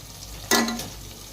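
A brief scrape of a spoon stirring turmeric into Telangana-style chicken pulao in a pan, one short clear stroke that fades quickly against quiet background noise.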